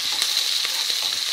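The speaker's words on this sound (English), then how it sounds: "And let those onions cook through" Onions cooking over low to medium heat in a pan, a close, even hiss of frying with faint soft stirring ticks throughout.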